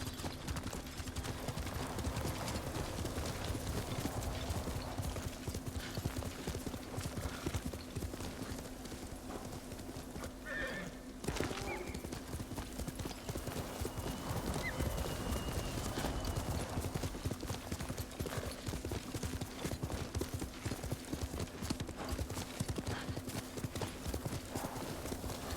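Hooves clip-clop steadily as a horse gallops in the video game Ghost of Tsushima, a rhythmic drumming that runs throughout with a brief whinny, alongside a low sustained game tone and occasional faint talk.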